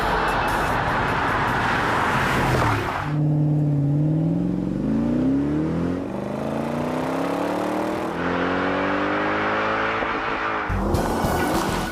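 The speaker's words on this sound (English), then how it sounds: "AMG went for an aspirated engine, meaning this car goes like lightning" Mercedes ML 63 AMG SUV with a naturally aspirated engine: loud, steady drone with a long rising rev sweep, tire noise and rushing wind, heard up close and alone without talk.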